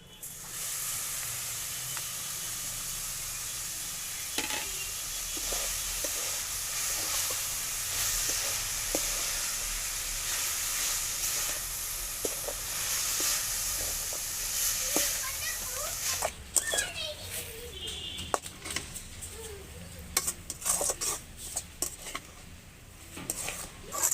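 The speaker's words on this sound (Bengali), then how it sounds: "এবার আমি এর উপরে পেঁপেগুলো দিয়ে দেবো।" Grated papaya cooks in melted sugar in a pan, hissing and sizzling steadily. In the later part a spatula scrapes and clatters repeatedly against the pan, and a voice speaks now and then.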